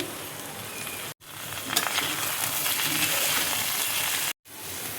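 Tomatoes going into a hot pan of oil for a jackfruit curry, giving a loud continuous hissing sizzle close by, briefly cut off twice, with no voices.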